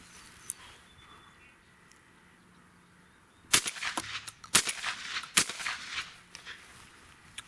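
A Retay Masai Mara 12 gauge semi-auto shotgun fires 1 1/8 ounce Remington American Clay and Field 7.5 shot loads, four sharp loud reports in quick succession after a few seconds of quiet outdoor ambience.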